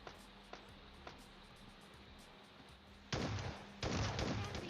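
Gunfire in the mobile game PUBG Mobile Lite: a few faint shots early on, then two loud sustained bursts of rapid automatic fire near the end.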